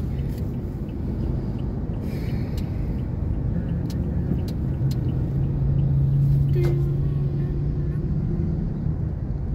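Steady road traffic with cars rumbles past at a busy roadside near SM City Clark in Pampanga, a continuous loud engine and tire roar with a lower drone swelling midway.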